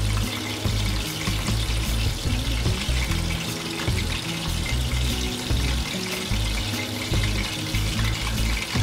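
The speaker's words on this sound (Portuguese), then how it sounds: "a gente vai colocar um pouquinho de água" Water pouring steadily into a cooking pot, a continuous splashing rush heard close up and fairly loud for several seconds without any talk.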